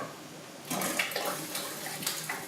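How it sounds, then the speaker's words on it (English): Potatoes tumble into a pot of water in a kitchen while fried chicken is being prepared, a short run of splashing and sloshing water after a quiet start, with several brief louder splashes. "So to get started, you're going to dump those potatoes on in."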